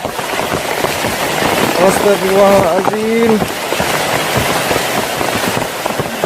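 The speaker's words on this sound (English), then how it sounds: "As rain started pouring down" Steady rain hisses and patters in a forest in Thailand over a broad wash of noise, with a few faint voices rising briefly in the middle.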